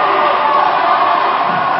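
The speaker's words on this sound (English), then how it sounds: "Sideline cheering for Canada at the moment" Loud, continuous sideline cheering and shouting from a crowd at a Mexico versus Canada dodgeball world championship match in Cancun, a dense, unbroken roar of many voices close by.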